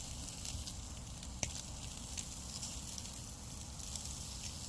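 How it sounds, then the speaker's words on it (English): Bacon sizzles in a pan at a lakeside carp fishing session, a faint, steady crackling hiss with a single sharp tick partway through and no talking. "Got to flip my bacon"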